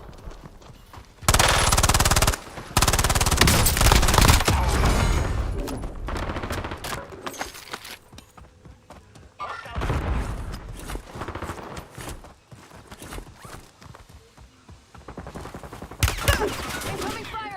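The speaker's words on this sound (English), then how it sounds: "Incoming fire." Automatic weapons fire in a video game, loud bursts of rapid shots separated by quieter gaps, with more scattered volleys and clatter later on.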